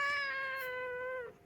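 A village cat gives one long, loud, drawn-out meow close by, steady and wailing before dropping off at the end, with no talk over it.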